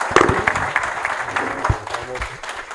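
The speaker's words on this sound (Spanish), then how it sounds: "fuerte aplauso para Julio." An audience at a solar energy training session claps for a presenter, scattered and moderately loud hand claps mixed with voices talking nearby, thinning out toward the end.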